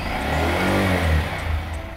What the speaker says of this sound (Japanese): キーをオンにしてニュートラルランプを確認してスターターを押します。